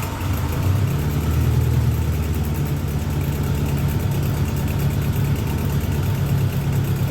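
A Honda Goldwing motorcycle engine with about 60,000 miles, neither cold nor fully warm, idling steadily and close by with a low, even rumble and no talk over it.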